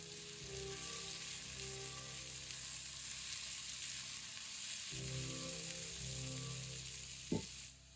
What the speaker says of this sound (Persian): روغن ریختم و پیازهای خلالی را سرخ کردم تا نرم و طلایی بشن